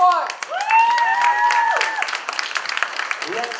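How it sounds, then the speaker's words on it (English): Audience applause at the St. Lucia Industrial and Small Business Awards 2018 ceremony, a steady crackle of many hands with a voice speaking over it, thinning toward the end. "The applause, people, the applause, people, we're almost there."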